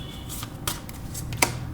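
Tarot cards being shuffled during a reading, a few short crisp riffling and slapping bursts close by, fairly quiet and with no talking.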